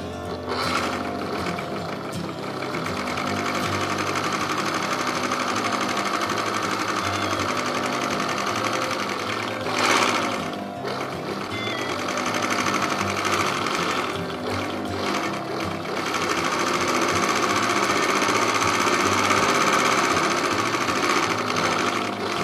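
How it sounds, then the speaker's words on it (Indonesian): An overlock serger hums and rattles continuously as it finishes the edge around a child's dress fabric, loud and close, with a brief slowdown midway before resuming its steady whir. "Nah ini sebelumnya kita obras dulu ini keliling ya."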